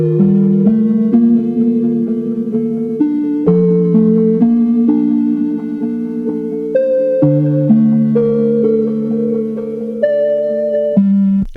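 A chopped, reversed and time-stretched synth lead melody from a Splice sample with no plugins, stepping through sustained harmonic notes of shifting pitch, played loud and alone for over ten seconds.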